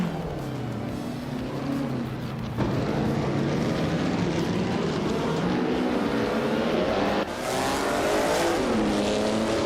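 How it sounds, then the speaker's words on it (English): Vintage Formula 1 race cars, including a 1960 BRM P48, roar around the Aintree circuit, with loud, continuous engine drone and rising and falling pitch as cars shift and pass close by. "The vintage F1 cars are close in performance, making the race very competitive."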